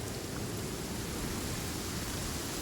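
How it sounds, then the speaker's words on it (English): Steady rain falling in the video game Genshin Impact, a dense even hiss that stays constant and fairly loud throughout with no voices. "Ah, it's raining?"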